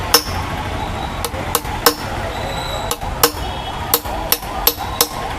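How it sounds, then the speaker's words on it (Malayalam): Sharp metallic hammer taps ring out about ten times at an uneven pace over a steady background hum, as a watch part is tapped to crack it during repair. "ഇനി കുറേശ്ശെ കുറേശ്ശെ അടിച്ച് പൊട്ടിച്ച് നോക്കാം"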